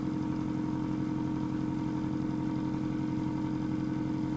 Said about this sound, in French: j'attends que l'aspiration se fasse complètement